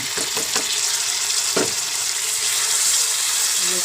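Ground chili added to shallots and garlic sautéing in hot oil, giving a steady close sizzle with a few quick stirring scrapes early on.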